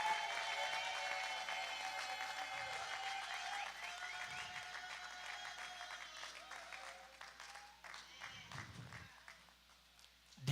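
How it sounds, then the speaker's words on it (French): Wedding guests applaud newlyweds at their ceremony, a faint, distant, sustained clapping from a crowd in a reverberant space, fading gradually with a few louder thumps near the end. "Est-ce qu'on peut applaudir?"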